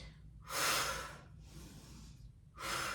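Two strong breaths pushed out through the mouth during a Pilates mat class, separated by a quieter breath in. Each is a close, airy rush lasting about half a second or more.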